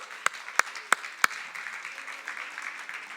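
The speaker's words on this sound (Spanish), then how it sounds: "Dale un aplauso al Señor." A church congregation at a worship service claps four sharp, evenly spaced beats in quick succession, then continues with softer, scattered clapping under faint background murmur.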